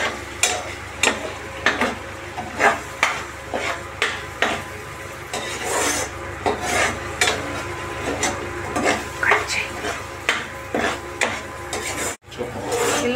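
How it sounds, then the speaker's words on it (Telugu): Apple pieces frying in oil in a pan while being stirred, steady sizzle under rhythmic scraping strokes of a spoon, close and fairly loud, repeating about once a second. "బాగా వేపుకోవాలి ఫ్రెండ్స్ నూనెలో"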